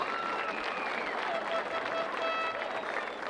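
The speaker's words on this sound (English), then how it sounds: "Please give them a round of applause for all they do for Kansas" A stadium crowd at a high school all-star football game applauds Shriners, a steady, somewhat distant sheet of clapping and crowd noise that holds evenly throughout.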